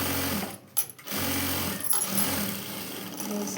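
A sewing machine stitches a tacking seam on a blouse cross belt, running close in bursts with a couple of short pauses and restarts between stretches of steady whirring.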